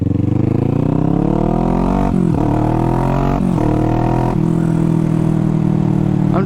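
Kawasaki Vulcan motorcycle engine while riding, a loud close rumble that rises in pitch through repeated revs and gear changes, no speech.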